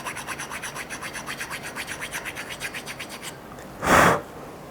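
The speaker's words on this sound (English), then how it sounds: "I will probably use a file and then some actual sandpaper" A hand file and sandpaper scrape a scratch-built model part in quick, even back-and-forth strokes, then stop before one louder, broader rasping pass, all close up and without voices.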